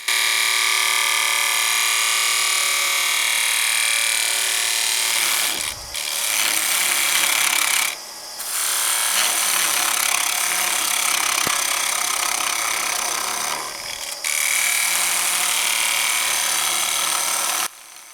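A woodturning tool cutting down the wall of a burl on a lathe, a loud continuous hissing shear with brief dips where the cut lifts off, close and steady.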